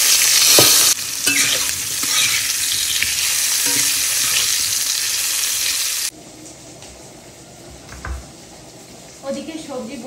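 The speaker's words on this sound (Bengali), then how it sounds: "নতুন নতুন লোহার কড়াইয়ে রান্না করছি" Vegetables cooking in a new iron kadai, loud close sizzling with scraping stir strokes, then quieter cooking noise with a few clunks and brief background voices.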